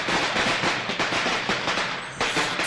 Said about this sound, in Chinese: 放鞭炮